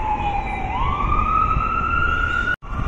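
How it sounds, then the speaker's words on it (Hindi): An ambulance siren wails loud and close as it pushes through a traffic jam outside a mall. The tone sweeps upward and holds over a constant traffic rumble, with a brief dropout near the end. "यहाँ पे ट्रैफिक जाम में एम्बुलेंस पूरा कवर करते हुए निकल रही है।"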